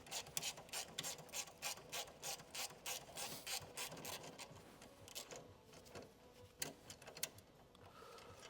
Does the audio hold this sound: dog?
no